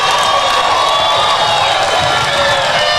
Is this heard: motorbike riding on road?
no